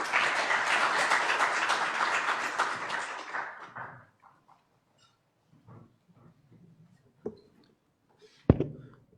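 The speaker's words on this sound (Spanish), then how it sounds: "Un aplauso, por favor." Audience applause at a conference, a dense burst of clapping that lasts about four seconds and then fades out, followed by faint scattered room noises and a few knocks.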